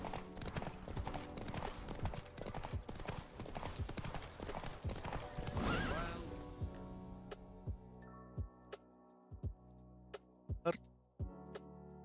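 A horse gallops in a race in The Witcher video game, rapid rhythmic hoofbeats with game music, slowing to a few isolated thuds as the run ends.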